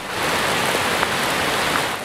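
Steady rain pours down in a dense, loud hiss, with occasional heavier drops spattering on a surface, in Halkapınar, Konya, Turkey.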